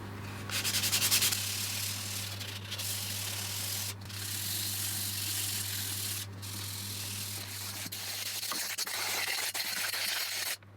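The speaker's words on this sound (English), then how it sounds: "So all I have to do now is give it a quick sand" A burl wood base for an epoxy resin night lamp is being sanded, a steady, close, continuous rasping with brief pauses, over a constant low electrical hum.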